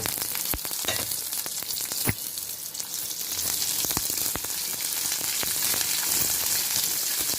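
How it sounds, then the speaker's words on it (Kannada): Curry leaves, onion and garlic frying in hot oil, a dense, continuous crackling sizzle close up, with a few sharp pops and spatters standing out early on. "ಈಗ ಕರಿಬೇವು ಹಾಕ್ತಾ ಇದ್ದೀನಿ ಆನಂತರ ನೋಡಿ ಈರುಳ್ಳಿ ಬೆಳ್ಳುಳ್ಳಿ ಹಾಕಿದ್ದೀನಿ"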